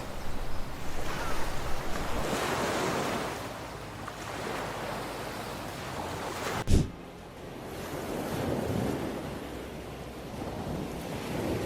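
Ocean surf rolls onto a shoreline where an orca hunts prey, with continuous swelling and receding waves, wind buffeting, and one sharp thump midway.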